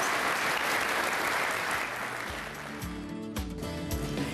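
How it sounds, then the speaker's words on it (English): Audience applause at a cancer survivor dinner for a Relay for Life event, a dense, steady wash of many hands clapping throughout, easing slightly toward the end. "Give her a big round of applause."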